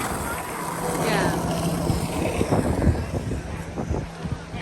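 Strong wind buffets a microphone outdoors in Banff, producing a continuous rumbling roar with gusty swells, while a person speaks intermittently over it.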